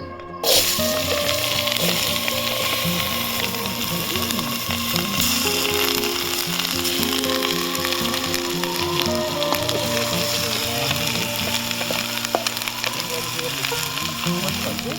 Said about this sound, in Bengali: তেল গরম হয়ে গেছে, এবার পেঁয়াজ আদা রসুন ভেজে নেব।